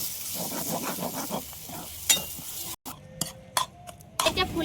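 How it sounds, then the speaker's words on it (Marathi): Hadga flower bhaji with two eggs sautéing in a pan, a steady sizzle under repeated scraping strokes of a spoon, with clinks of utensil on metal later and a brief pause midway. "आता मस्त परतून घेऊन"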